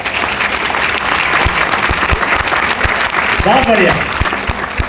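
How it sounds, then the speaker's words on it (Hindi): An audience at a motivational lecture in Varanasi claps loudly and continuously for several seconds, a dense, close burst of applause, while someone speaks briefly over it. "तो एक बार जोरदार तालियां बजा लीजिए अपने लिए।"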